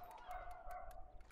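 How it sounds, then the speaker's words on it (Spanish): Dogs bark faintly in the distance, a few quick yips and barks over a low background hum, briefly and without talking. "¿Está oyendo eso? Los perros."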